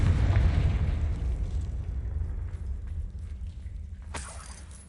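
Confringo fire spell explosion in the video game Hogwarts Legacy, a deep booming blast at the start that rolls into a long, gradually fading rumble, with a brief crack near the end.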